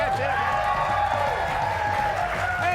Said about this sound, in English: Oh, I got a clap.